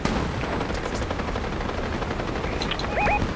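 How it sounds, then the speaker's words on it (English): Dense rattling bursts of gunfire in Fortnite crackle continuously, with a couple of short electronic beeps near the end; no one speaks. "I hear lots of gunshots."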